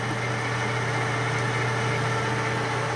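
A Kearney and Trecker 2HL universal milling machine runs with a steady mechanical hum and drone, loud and continuous with no pause or talk.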